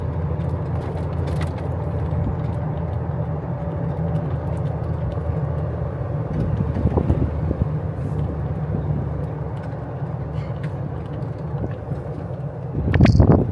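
Strong wind blowing across a beach, a constant loud roar buffeting the microphone, with a stronger gust near the end.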